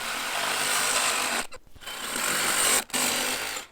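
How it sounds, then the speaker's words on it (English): A hacksaw cuts through a metal van seat frame in rapid, steady strokes at close range, with two short pauses before the cutting resumes. "This hacksaw is a cracking bit of kit."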